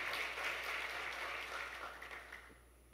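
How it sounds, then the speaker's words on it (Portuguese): Applause from a church congregation, a steady wash of many hands clapping that fades slightly toward the end, with no talk over it. "Vamos aplaudir Jesus, Deus é bom"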